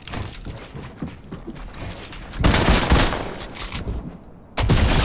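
Dual pistols fire in Fortnite in rapid rattling volleys. A quieter mechanical stretch comes first, then loud sustained bursts at close range, with no talk over them.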